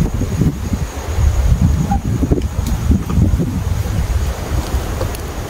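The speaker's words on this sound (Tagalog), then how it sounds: "Lakas ng hangin." Strong wind buffets the microphone in steady, loud low rumbling gusts outdoors, with no talking over it.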